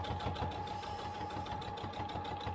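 Sewing machine stitching around a quilted mug rug, a steady close mechanical whir with fast rhythmic needle chatter running without pause.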